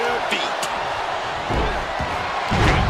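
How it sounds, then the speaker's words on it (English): An arena crowd in the WWE 2K26 wrestling game roars steadily throughout, with a loud rumble of cheering and a few sharp thuds and impacts rising near the end. "listen to this crowd. Every one of them is on their feet."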